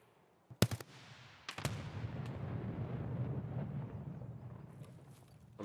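A hand grenade bursting in the tactical shooter Escape from Tarkov: a sharp crack and a second heavy blast in quick succession, followed by a long low rumbling roll that slowly fades, with no voices.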